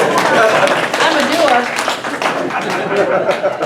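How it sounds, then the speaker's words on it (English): An audience at a Rotary Club leadership event breaks into sustained applause, dense and loud, with some chatter and light laughter mixed in. "Can we give her a round of applause?"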